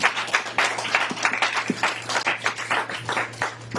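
Congregation clapping during a Sunday church service, dense rhythmic applause with many hands at once, steady and fairly loud across the whole stretch, with a low hum underneath.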